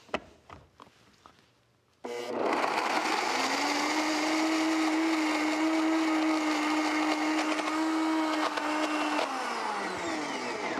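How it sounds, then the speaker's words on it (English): A blender whirs at full speed through basil and water, starting abruptly after a couple of seconds of quiet clicks and handling, then holding a loud, steady close-up motor whine until it winds down near the end. "So let's start blending."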